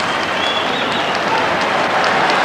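A large crowd cheers and applauds at the 1994 All-Ireland hurling semi-final between Offaly and Galway, a loud, steady roar of distant massed voices and clapping that fills the whole moment.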